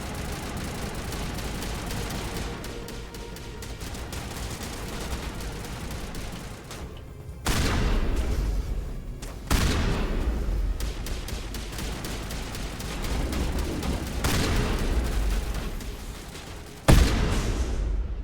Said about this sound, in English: the shotgun seems like it's a bit good